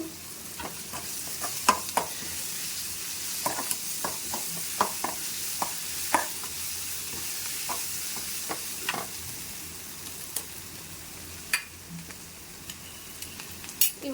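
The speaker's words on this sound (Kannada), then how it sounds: "ಡೈರೆಕ್ಟ್ ಒಂದೆರಡು ನಿಮಿಷ ಫ್ರೈ ಮಾಡಬೇಕು" Fenugreek leaves frying in a pan: a steady broadband sizzle with scattered crackles and pops and occasional stirring scrapes, fairly close and even throughout, with no voices.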